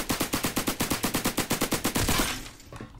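A suppressed Tommy gun in Roblox Criminality fires a steady automatic burst of about twenty muffled, evenly spaced shots, loud and close, ending abruptly and followed by faint trailing game noise.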